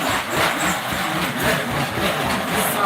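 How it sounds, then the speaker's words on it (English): Fire truck and tow truck engines idle in the background, a steady low rumble with mild pulsing that runs continuously at moderate level with no talk over it. "That is fire truck and tow truck, in case anybody was wondering."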